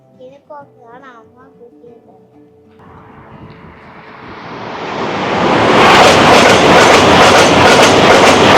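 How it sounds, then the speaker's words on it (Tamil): A few brief voices and chimes, then a Eurostar high-speed train out of London approaches and rushes past loudly, its roar building into a sustained close whoosh. "அது வந்து யூரோ ஸ்டார்னு ஒரு ட்ரெயின் தீக்ஷா இங்கேருந்து ஃப்ரான்ஸ் போகிறதுக்கு"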